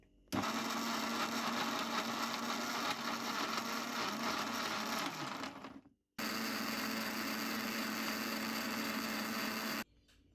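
A mixer grinder blending cucumber and amla with buttermilk, a loud steady whirring drone that runs for several seconds, cuts out briefly, then starts again at full strength before stopping.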